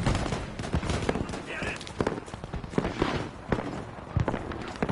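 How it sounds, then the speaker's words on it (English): Rapid, uneven bursts of heavy gunfire and booms from big anti-aircraft guns in the video game Battlefield V, with a voice talking over the shots. "They're shooting the big AA guns at us."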